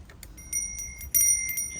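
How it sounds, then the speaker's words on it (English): A bell with clear sustained ringing tones sounds in a few quick bursts, fairly faint over a quiet background, likely a doorbell at a home in Oahu. "I guess that's the doorbell."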